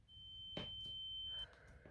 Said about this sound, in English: The ringing in the ears does go on for a little bit.